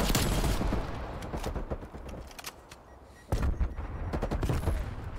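Bursts of rapid automatic gunfire from a gun in Call of Duty Black Ops Cold War, loud and close, trailing off into a lull before another heavy volley resumes.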